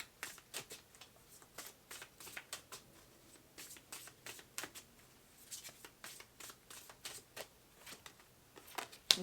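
Tarot cards shuffled by hand in rapid, crisp riffling bursts, close and fairly quiet, repeating in an even rhythm with no talking.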